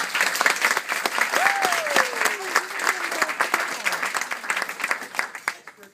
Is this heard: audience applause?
yes